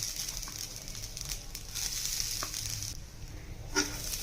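Grated coconut is dry-roasting in a pan for sukkha chicken, a steady low hiss and crackle with occasional soft scrapes and one louder clink near the end, close and without talk.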